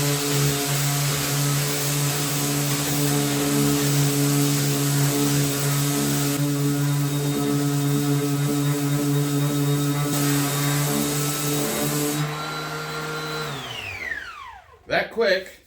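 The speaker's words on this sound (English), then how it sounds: "that random orbital sander did a phenomenal job of getting our cedar plank nice and smooth" Random orbital sander smoothing a cedar plank, a steady whirring drone that runs loud and even for most of the stretch, then winds down and stops near the end.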